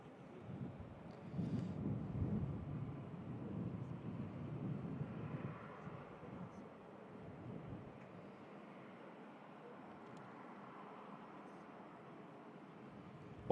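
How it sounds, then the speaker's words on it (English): Plane taking off at Manchester Airport, heard from a distance: a low, broad roar swelling over the first few seconds and then slowly fading into a soft rumble. "I can see a plane on the way out."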